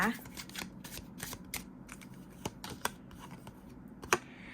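Tarot cards are shuffled close by, giving soft riffling and a series of crisp irregular snaps and taps as cards are handled and laid down, with someone talking quietly over them.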